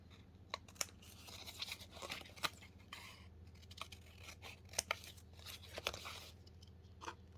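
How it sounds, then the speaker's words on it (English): Scissors snip and trim paper scraps for a junk journal, a run of sharp, crisp cuts and small rustles scattered at close range, fairly quiet with no talking. "So I'll trim those bits because they're a bit long."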